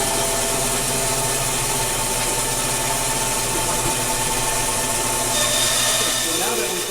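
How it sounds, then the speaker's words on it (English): A bandsaw trims corners off wooden boards for basic shelves, giving a loud, steady motor drone and cutting whine that holds throughout, with a slight shift in tone near the end. "I'm going to put it on the bandsaw, and I'm going to just take that little corner there off"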